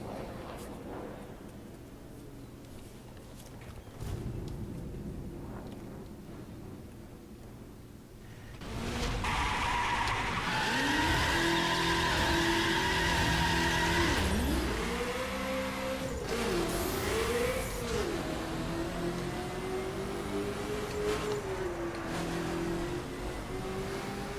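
A Mazda RX-7 racing in The Crew on the Summit Time Attack track, starting with faint engine hum before the engine swells into a loud, sustained revving drone that rises and dips with gear changes and throttle.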